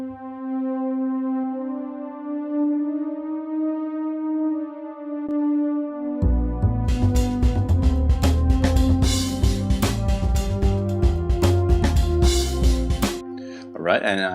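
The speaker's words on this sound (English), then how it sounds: "Alright, so I've added another pad to this arrangement." A sustained synth pad holds a steady tone for about six seconds. A jazzy drum arrangement then joins with dense, punchy hits under the continuing pad, and the drums stop abruptly near the end.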